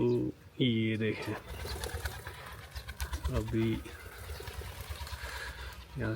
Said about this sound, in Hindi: यहाँ से कबूतर भी बहुत उड़ रहे हैं।